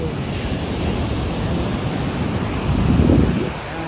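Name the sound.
big ocean waves at San Juan, La Union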